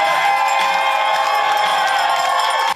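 A crowd cheers and shouts continuously as a 55-year-old Belgian marathon runner crosses the finish line after 366 consecutive marathons, with loud, sustained voices and whoops that cut off abruptly at the end.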